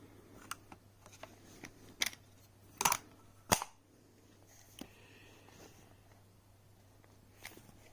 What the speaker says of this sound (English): So you can dump your rounds out, just like that.